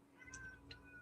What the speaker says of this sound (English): That's my cat, Ink